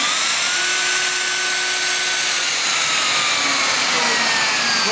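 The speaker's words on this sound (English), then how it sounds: "So when we start the router, the vac starts." A variable-speed Festool router runs with an older Festool dust extractor (a 22 model) switched on alongside it, giving a loud, steady whine over a broad rushing hiss that holds unbroken throughout, with no talking.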